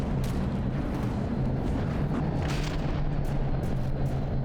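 Repeated heavy cannon booms from cram cannons in a From the Depths battleship battle, firing over a continuous low rumble, loud and dense with overlapping thuds and no talking.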